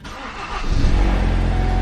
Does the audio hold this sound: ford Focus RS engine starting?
yes